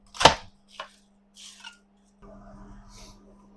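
Garlic being chopped with a knife in a home kitchen: a few separate sharp cuts, the first loudest, followed by softer scraping over a steady low hum.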